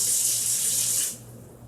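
Kettle One botanical cucumber and mint vodka splashes into a glass over ice with a bright, hissing pour for about a second, then cuts off to quiet.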